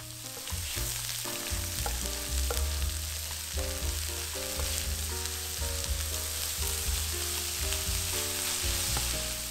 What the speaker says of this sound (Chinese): 然后翻炒